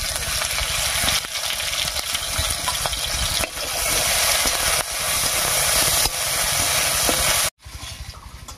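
Chopped garlic and green chilies fry in hot mustard oil in a kadai, a loud continuous sizzle with sharp crackles and occasional stirring scrapes, cutting off abruptly near the end before a quieter sizzle resumes.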